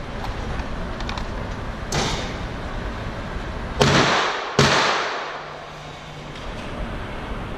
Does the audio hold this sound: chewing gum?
no